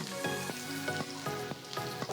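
Finely chopped garlic fries in hot sesame oil in a kadai, crackling steadily up close while a rhythmic stirring clatter repeats about every half second.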